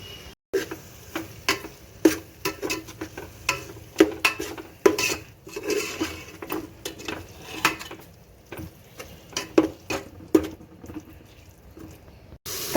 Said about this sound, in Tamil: தயிர் சேர்த்து நல்லா மிக்ஸ் பண்ணி விட்டுக்கலாம்.